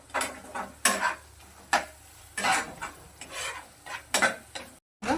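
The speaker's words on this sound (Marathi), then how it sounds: "हाय फ्लेमवरती त्याला कंटिन्यू स्टर करायचं असं मॅश करायचं" Goat brain being stirred and mashed continuously in a pan over a high flame, with repeated scraping, rasping strokes in an irregular rhythm, close and fairly loud, with no talking.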